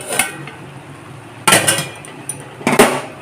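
A metal plate clanks onto a cooking pot of vegetarian banana-flower curry simmering on low flame. Three separate bright metallic clinks and rattles, close and fairly loud, are spaced about a second apart.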